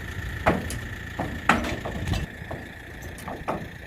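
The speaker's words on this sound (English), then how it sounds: "Here is Chief loading onto the flatbed trailer." A horse loads onto a wooden flatbed trailer hitched to a tractor. A few uneven, hollow thumps and knocks of hooves on wood sound fairly close over a steady low background rumble.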